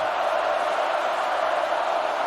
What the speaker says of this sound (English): Penn State fans making some noise for their defense.